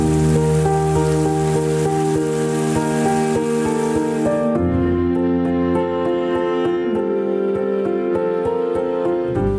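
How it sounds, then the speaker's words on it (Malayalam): Rain arrives during a funeral Qurbana, a steady broadband hiss over a bed of sustained tonal music or hum; the rain noise is dense for the first few seconds, then thins sharply, leaving sparser drips beneath the lingering tones. "ആരും വിളിക്കാതെ മഴയും എത്തി"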